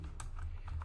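A quick burst of a few keystrokes on a computer keyboard while entering a network configuration command in Cisco Packet Tracer, light clicks close by in under a second.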